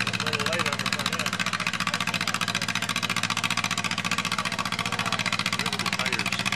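Antique tractor engine working hard in a tractor pull at a county fair, a loud, fast, rhythmic chugging pulse that stays steady and close throughout.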